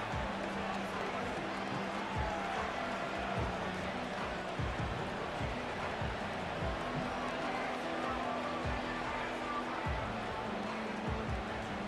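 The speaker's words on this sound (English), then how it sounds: "A big play here as the crowd noise rises." Stadium crowd roar in the football video game Madden 25, a dense, steady wash of noise swelling through a big play, with low tones and thumps underneath and no clear talk.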